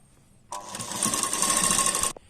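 A sewing machine runs in one steady burst of stitching on a double katori blouse, starting abruptly and stopping after about a second and a half, close and fairly loud with no talk.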